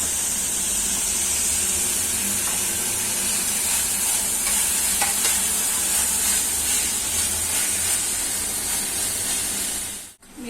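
Fried onion with ginger-garlic paste being stirred in a pan, a continuous bright sizzle and hiss with occasional scraping strokes, close and steady before cutting off abruptly at the end.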